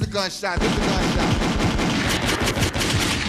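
A loud burst of rapid gunfire rattles continuously, dense and close, following a short tonal sound at the start.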